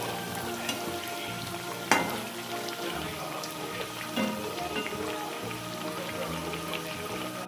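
Potato bhaji slices deep-frying in hot oil give a steady, soft crackling sizzle with scattered pops, including one sharper crackle early on, all fairly quiet and close.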